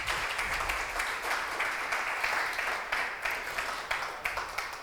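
An audience applauds at the start of a scientific talk, a moderate and fairly close spread of clapping with irregular sharper claps throughout.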